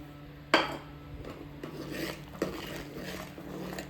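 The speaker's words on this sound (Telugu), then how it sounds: "ఇప్పుడు మనం రవ్వ మొత్తం దీంట్లోకి వేసి కలిపేసుకుందాం." Semolina stirred into boiling water in a pot on a low flame, giving a sharp scrape at the start, then steady rasping and rubbing strokes against the pot with a second knock partway through.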